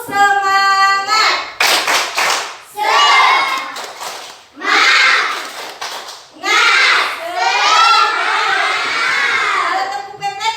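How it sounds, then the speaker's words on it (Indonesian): A group of children performs the tepuk semangat clapping routine, bursts of sharp rhythmic claps alternating with loud chanted shouts in patterned phrases, close and energetic, with an adult voice leading at the start. "Ayo tepuk semangat dulu. 1, 2, 3 mulai. Tepuk semangat."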